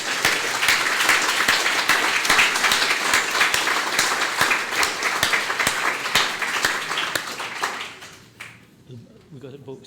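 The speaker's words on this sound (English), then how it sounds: "Another round of applause." A warm round of audience applause after a literary reading, loud steady clapping from many hands that carries on for several seconds before tapering off into quiet room noise and faint voices.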